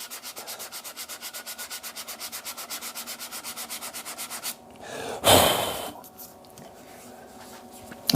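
A foam pad sands a stabilised amboyna burl wood handle on a lathe in quick, even rhythmic strokes, close and clear, then stops and gives way to handling noise and a brief loud rustle.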